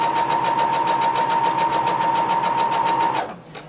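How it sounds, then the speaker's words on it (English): Home sewing machine running a fast, even stitch along a maxi skirt pocket seam, loud and close, then stopping abruptly near the end. "lower your presser foot back down, and continue sewing"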